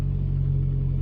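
A 2000 Toyota Corolla E11 facelift with a 1.6 engine idles just after start-up, following a cleared check-engine fault; a steady, even low hum runs close and unbroken, with no talk.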